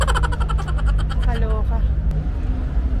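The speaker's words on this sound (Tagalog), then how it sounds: "Parang parada ng mga sasakyan na yan" Steady low rumble of car traffic on a Zurich city street, a constant drone with passing vehicles, while a voice talks over it for the first half.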